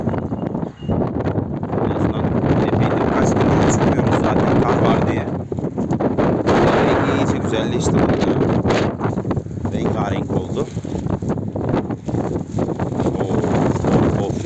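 Strong wind buffets the microphone throughout, a loud continuous roar with gusty swells and a voice faintly audible beneath it.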